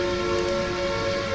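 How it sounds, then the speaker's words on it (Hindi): A metro train pulls into a station platform and stops, with a steady tonal hum and squeal running loud throughout and a brief higher hiss near the start. "देखते ही देखते ट्रेन प्लेटफॉर्म पर आकर रुकी"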